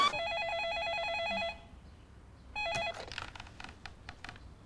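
A telephone rings with an electronic trilling tone, one long ring of about a second and a half, a pause, then a short second ring, followed by quiet rustling and small knocks.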